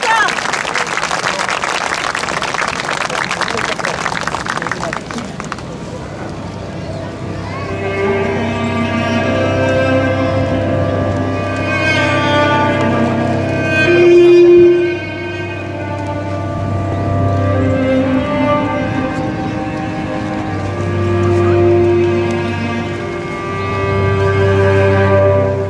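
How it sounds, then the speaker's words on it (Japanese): At the 2012 Daidogei World Cup street performance festival in Shizuoka, an audience greets a performing duo with dense, close applause for about five seconds. Music then takes over, with the crowd still murmuring underneath. "それでは皆様大きな拍手でお迎えください。"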